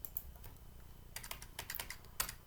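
Brief bursts of close keystrokes on a computer keyboard while entering a spreadsheet, starting sparse and then a quick clustered run of clicks at moderate volume.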